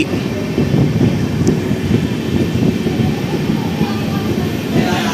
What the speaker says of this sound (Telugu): తిరుత్తని రైల్వే స్టేషన్లో మన ట్రైన్ వచ్చేసి ప్లాట్ఫామ్ నెంబర్ 1 పైకి అయితే వచ్చి ఆగింది